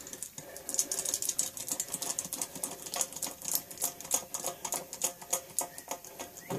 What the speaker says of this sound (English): So then we take our stitching wheel and go to town on it.